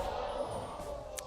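A large audience at a League of Legends World Championship play-in esports match reacts with a short burst of crowd noise, faint and brief, under a broad wash of arena sound.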